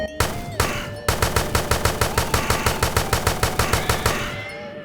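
Rapid gunfire from a zombie survival shooter game: a couple of opening shots, then a long run of evenly spaced, sharp bursts that stop abruptly.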